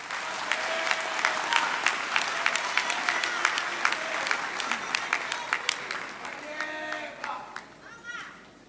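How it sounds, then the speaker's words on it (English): An audience applauds after a live band's musical performance, dense clapping and crowd noise holding steady for several seconds before tapering off near the end, with a voice starting to speak as it fades. "Can we give another round of applause to"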